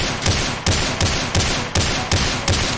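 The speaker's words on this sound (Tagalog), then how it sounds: "bumabaril doon sa kabila!" Gunfire in PUBG Mobile, a loud, close burst of rapid repeated shots fired in an even rhythm, about three per second, with no talk.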